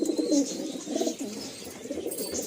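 A male and female Saharanpuri pigeon pair coo nearby in soft, rolling low calls, repeating in short bursts with faint chirps over the top.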